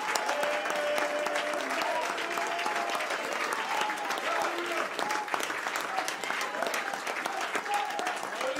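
A church congregation applauds and cheers in praise, steady sustained clapping mixed with voices calling out and tonal cries throughout.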